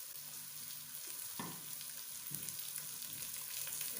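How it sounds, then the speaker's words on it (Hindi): Chicken gizzards frying in hot oil, a close, steady sizzling hiss with a couple of soft stirring knocks partway through. "चिकन पोटे को हमने फ्राई करना है, ऐसे ही तेल के अंदर तलना है अच्छी तरह"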